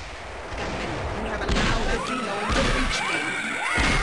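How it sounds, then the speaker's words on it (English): Rockets from enemy fire in the Gunman Chronicles shooter game explode in a rapid string of crashing blasts and whooshes that keep up the whole time, mixed with game effects and a player's voice speaking over the action. "Stop shooting rockets at me."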